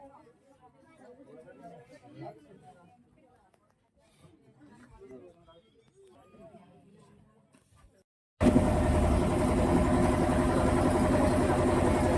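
Engine of a passenger launch ferry in Bengal rumbles loud and steady after a quieter stretch of crowd chatter, the droning hum filling the last few seconds.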